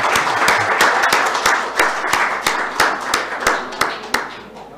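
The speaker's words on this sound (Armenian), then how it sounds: "ծափահարենք բոլորս։" A roomful of council members claps together during a council session to welcome a small child who has joined them. The applause is dense and steady, with sharper individual claps popping out, and lasts the whole stretch without fading.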